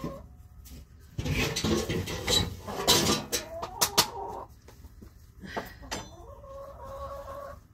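Backyard chickens, fed on organic layer feed, cluck and squawk nearby in irregular bursts, with a few drawn-out calls rising above the quieter murmuring of the flock.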